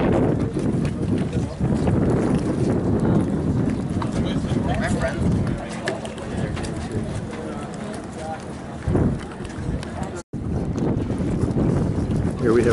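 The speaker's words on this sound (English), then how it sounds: "so we've got a breeze behind us. I hope you can hear this." Wind buffets a microphone outdoors at a classic boat show in Gravenhurst, Ontario, with a loud, constant rumble. A voice talks over it throughout.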